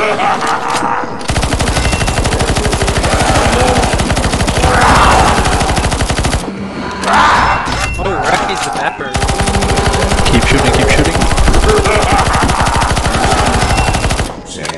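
Automatic gunfire aimed at a boss on the CS:GO zombie escape map ze_cursed_bear_tales, stage 2. Loud, sustained rapid bursts run for about five seconds, break briefly, then resume for another five or so.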